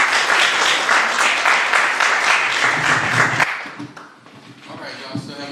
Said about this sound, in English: Everybody clap it up for our man.